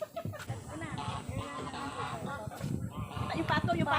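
Ducks at the Changbeihu scenic area in Yilan honk and quack in rough bursts, fairly close and mingled with people talking nearby.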